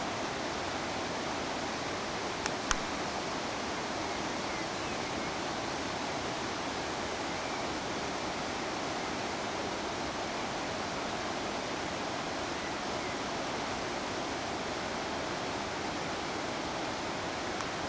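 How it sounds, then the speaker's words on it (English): A series of waterfalls beside a restaurant on a Norwegian cruise stop sends up a constant, dense roar of falling water, with a couple of faint clicks near the start. "adjacent to this rather excellent series of waterfalls"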